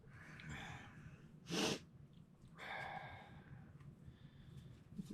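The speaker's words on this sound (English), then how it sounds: "excuse my sniffling" A few nasal sniffs in a quiet room, with one sharper, louder snort-like sniff in the middle; no talking.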